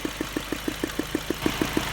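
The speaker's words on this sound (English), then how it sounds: "you might think it's an engine knock" Regular knocking from the engine of a 2005 Ford Focus, about seven even ticks per second, with a steady idle hum beneath the evenly spaced beats.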